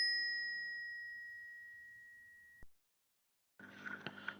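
A bright electronic notification bell dings once with a long ringing tone that fades and cuts off, followed by silence and then a short burst of a softer chime-like sound, with no voices.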